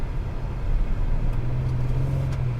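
A 2020 Lincoln Navigator with a 3.5-liter V6 and 10-speed automatic drives along, its engine a steady low drone with a slight rise, heard from inside the cabin with road noise and no talking.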